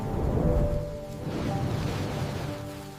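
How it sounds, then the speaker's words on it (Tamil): A thunderstorm sound effect with deep, rolling rumble of thunder and steady rain noise, loud and continuous across a short stretch, with a heavier swell near the start. "ஒரு நாள் பெரிய புயல் வந்தது."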